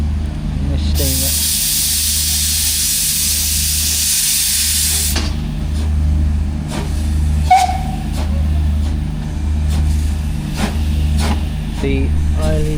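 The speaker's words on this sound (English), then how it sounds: "And this steamer." A miniature railway steam locomotive at a steam rally vents a loud, broad hiss of steam for about four seconds, then settles into steady mechanical chuffing and rumble, with people talking nearby and a brief whistle-like tone.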